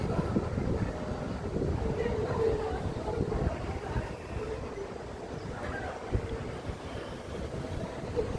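A small train runs along Southend Pier railway on a hot, sunny July day, giving a steady low rumble mixed with wind buffeting the microphone, continuous and fairly loud throughout.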